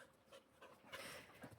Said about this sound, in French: Je crois que c'est le chien du voisin.